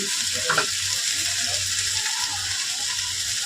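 Chopped spiny gourd (kakrol) fries in a pan with a continuous hissing sizzle, joined by soft low knocks from stirring, with no voices over it.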